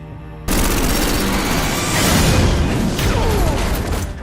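A heavy film shootout erupts abruptly after a brief quiet moment into loud, dense, continuous gunfire with layered bursts and rumbling impacts. There is no talking.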